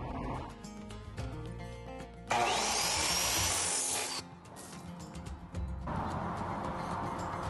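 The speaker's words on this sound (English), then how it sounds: "I'm going to take this bit of tubing and I'm going to cut the lengths, I'm going to drill the holes out" Steel rectangular tubing is cut and drilled for a trailer winch mount, with a harsh, loud grinding burst in the middle between quieter scraping and tool noise, all close by.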